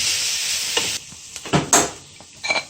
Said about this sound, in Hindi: अब इसी तरह अब ये जो बॉयल किए हैं गाजरें 1-2 मिनट के लिए, इनको डाल देते हैं।